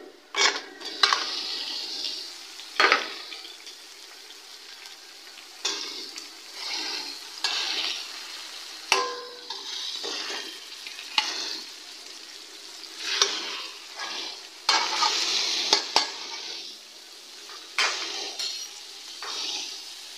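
Large chunks of mutton for nihari frying and being stirred in a pressure cooker pot, steady sizzling broken by repeated scraping and clinking of a spoon against metal, close and fairly loud with no talking.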